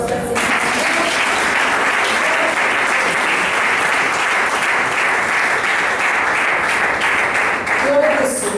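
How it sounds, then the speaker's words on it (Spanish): A Pentecostal evangelical church congregation gives a loud, sustained round of applause to the Lord, with dense, steady clapping filling the room without a break. "Quiero un fuerte aplauso al Señor."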